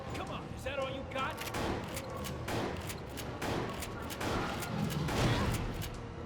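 Repeated shotgun blasts in the rail-shooter Resident Evil: The Darkside Chronicles on PS3, firing steadily amid dense game noise and music, with a player talking over the action.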